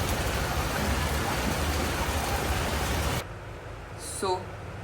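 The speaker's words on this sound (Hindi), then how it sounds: "बारिश तो बहुत तेज़ हो गई है अभी" Heavy rain pours down in a dense, loud hiss that fills the first three seconds, then drops away abruptly to a quieter background with a brief faint sound near the end.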